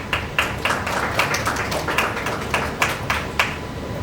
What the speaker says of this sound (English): a round of applause for all of these amazing countries